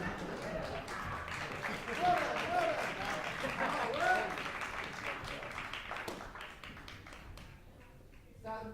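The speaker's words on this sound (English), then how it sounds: "Let's give them a round of applause, guys" An audience applauds a piano trio at a young chamber musicians competition, with steady clapping that tapers off toward the end while voices talk over it.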